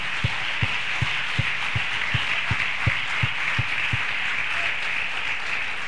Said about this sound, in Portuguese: Vamos dar uma salva de palmas a Ele?